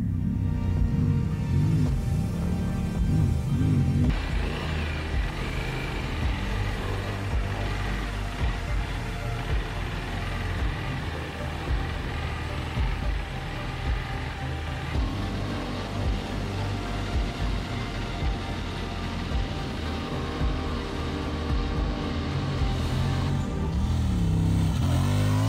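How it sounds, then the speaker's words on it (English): A Honda Transalp motorcycle climbs the Big Red sand dune in the Australian outback, its engine droning loud and continuous with shifting revs and tone changes partway through. "So there we go, the Transalp up Big Red."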